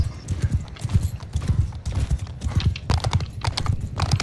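Rapid, rhythmic clip-clop of several horses' hooves pounding along steadily in the video game Mount and Blade II: Bannerlord, close and fairly loud, with an occasional whinny in the mix.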